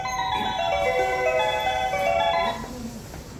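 JR Tsurumi Station's platform 2 departure melody plays as a bright, chiming electronic tune for about two and a half seconds, then cuts off, leaving faint station ambience.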